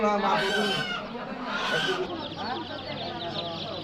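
A rooster or chicken at a busy duck and chicken market in Savar calls loudly twice in quick succession, amid crowd noise and bustle.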